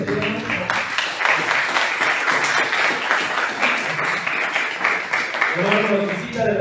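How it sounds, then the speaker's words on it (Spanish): Congregation applause in a church service, with dense clapping under loud, continuous talking from a speaker over the crowd. "También voy a pedirles un aplauso"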